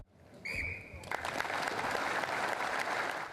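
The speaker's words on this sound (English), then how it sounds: "applause before Featherstone Rovers played their match" A crowd applauds before a Featherstone Rovers rugby league match, a brief whistle at the start, then broad sustained clapping swelling and holding steady from a large gathering.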